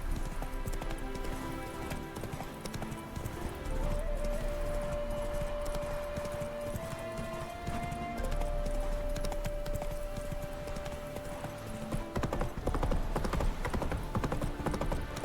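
Horses galloping in The Witcher 3, a steady rhythmic clip-clop of hooves with a sustained tonal game sound partway through and a rougher burst near the end, moderately loud over background game audio.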